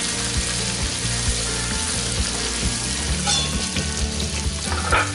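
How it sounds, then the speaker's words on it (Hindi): Puris fry in hot oil over a medium flame, a dense, loud, continuous sizzle and bubbling heard up close with no voices. "पूरी डाल देते हैं और इसको इस तरह से दबाएंगे।"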